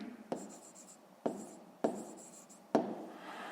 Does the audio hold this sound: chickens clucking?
no